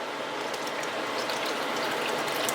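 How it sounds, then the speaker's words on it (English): Savannah River IPA beer poured into a pot of French onion soup, a steady fizzing, sizzling splash that runs unbroken and fairly loud throughout, with no voices. "I'm going to put in Savannah River IPA"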